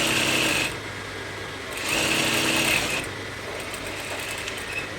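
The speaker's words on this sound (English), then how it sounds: "So I'm going to run another stitch at the front, dividing this piece that I had it at the center front here." A sewing machine runs a stitch along a kimono sleeve, whirring in short bursts with brief pauses between them, close and without talk.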